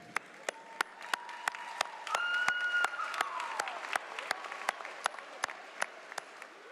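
Graduates at an AMU and APU Class of 2026 graduation ceremony applaud their family and friends: a sustained round of crowd clapping with sharp individual claps standing out and a swell in the middle.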